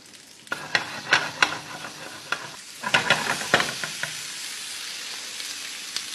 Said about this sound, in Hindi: आप घुमाते रहिए और पकाते रहिए।